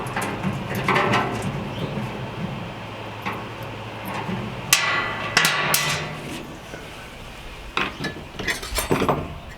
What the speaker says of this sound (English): now to take out this other bolt so I can put that grease trap on